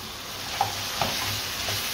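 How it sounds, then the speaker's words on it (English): Julienned carrots and golden raisins being stirred in a frying pan for an Afghan-style jackfruit biryani, with a steady sizzle and two clear utensil knocks against the pan. "Give that all a really good stir."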